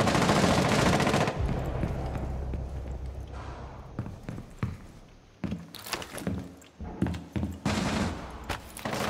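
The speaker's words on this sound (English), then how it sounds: "Oh, shot Valk's feet twice." Automatic gunfire in Rainbow Six Siege on the Chalet map during a team deathmatch, a loud sustained burst followed by rapid repeated shots and short volleys, close and dominant.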